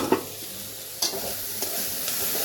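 Sliced bitter gourd frying in oil in a pan on a home stove, heard close as a steady soft sizzle with a few sharp spatters and utensil taps over a couple of seconds.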